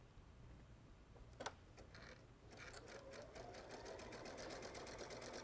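A Brother Luminaire 2 XP2 sewing machine stitches at a short stitch length, starting with a quiet click and then building into a steady, rapid mechanical whir with a regular ticking rhythm, close and continuous.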